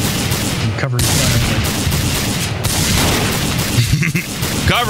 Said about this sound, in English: I'm covering fire.